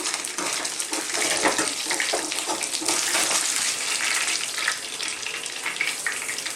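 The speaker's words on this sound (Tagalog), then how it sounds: "Tinitilamsik pa rin siya." Hot oil spattering and crackling in a frying pan as milkfish (bangus) steaks fry skin-side down, a continuous bright hiss with irregular pops, close and steady throughout.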